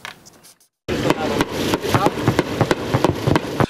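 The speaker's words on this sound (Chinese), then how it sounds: "连续枪炮声，海面不断溅出水花" An AC-130J gunship fires during a military drill at sea, sending out a quick series of sharp bursts of gunfire after a short quiet start, with a commentator's voice faintly underneath.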